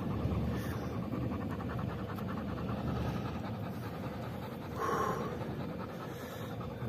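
A dog pants steadily and close by on the Rhune mountain in the Basque Country, a continuous rapid breathing rhythm with a brief louder swell partway through and no talk.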